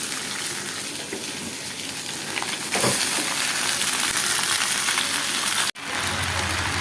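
Boiled chow mein noodles tipped into a hot pan with fried potato and carrot, loud steady sizzling and hissing with stirring scrapes, a brief gap, then frying resumes.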